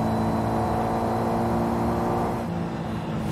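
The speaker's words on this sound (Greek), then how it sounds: "Ακούστε τον ήχο που έχει, πώς πάει το αυτοκίνητο, τι στήσιμο έχει, πώς μπαίνει μέσα." A Subaru Impreza engine drones loud and steady as the car is driven in the video game Forza Horizon 5, easing slightly toward the end, with no talking.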